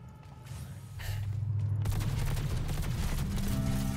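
Sustained gunfire erupts in the video game Cyberpunk 2077, a dense, loud rattling barrage that builds after a quieter start and continues without pause, no voices over it.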